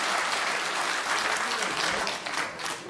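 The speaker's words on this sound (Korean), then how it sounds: "최은혜 의원님께 다시 한번 큰 박수 부탁드리겠습니다" A crowd at a launch ceremony for a nationwide petition campaign claps loudly and continuously in a thick, even roar of applause that eases slightly toward the end.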